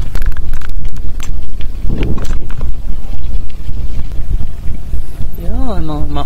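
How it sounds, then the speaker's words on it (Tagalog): Wind rushes steadily over a microphone during a boat ride in the Philippines, a loud constant buffeting roar with people talking over it and a brief rising whistle-like tone near the end. "Sarap ng hangin."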